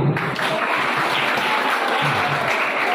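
Audience applause at a youth gathering, a dense sustained clapping from many hands, loud and close, steady for the whole stretch without speech.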